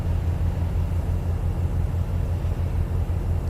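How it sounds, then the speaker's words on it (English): Low, steady diesel rumble of a heavy truck in Euro Truck Simulator 2, a continuous droning hum with a faint pulsing throb, fairly loud and alone. "I hear a truck off to our right here."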